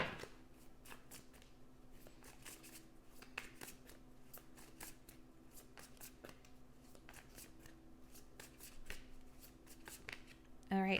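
Muse Tarot cards are shuffled by hand in a quiet room, a rapid series of close, crisp riffling flutters and soft slaps repeating for several seconds.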